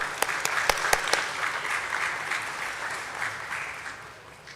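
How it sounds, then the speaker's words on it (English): Applause for a guest invited on stage at a stock exchange listing ceremony, a dense crowd clapping steadily with a few sharp claps at the start, gradually fading toward the end. "Let's give a huge round of applause for him"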